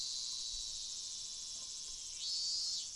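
Cicadas from the Higurashi video game drone in a steady, dense high-pitched chorus that swells louder near the end, with no talking.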